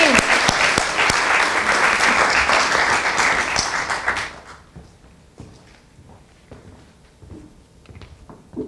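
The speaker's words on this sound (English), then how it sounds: "So a round of applause for my team." Audience applause for a student team at a college recognition day ceremony, loud and dense for about four seconds before dropping off sharply to scattered claps and quiet room noise.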